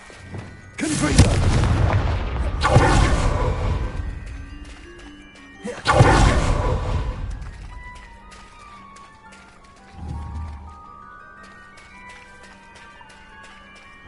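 Confringo explosion spells in Hogwarts Legacy burst in a string of heavy booms, two close together, then another and a softer one, each with a rumbling tail over quiet game ambience.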